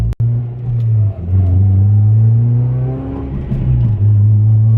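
A supercharged Honda Civic Si engine rumbling close by at low RPM with low, throaty tones that rise and dip through a few gentle revs, no voices present.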